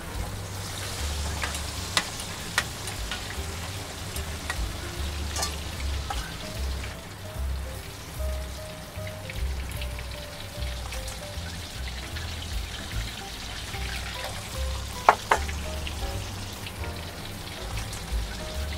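Pork pieces deep-frying in hot oil for a second fry, a steady crackling bubble like rain on a surface, with a low background hum underneath and occasional sharper pops.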